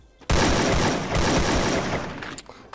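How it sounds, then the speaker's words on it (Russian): A dense, loud burst of automatic gunfire in the Free Fire video game, starting abruptly and running continuously for about two seconds before it tails off. "Они палят так, я же знаю, они палят."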